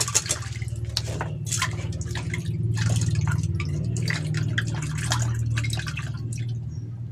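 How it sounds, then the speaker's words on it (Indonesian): Aglaonema stem cuttings being rinsed in water, with irregular drips and light splashes over a steady low hum, close by and moderately loud. "Kita cuci dulu."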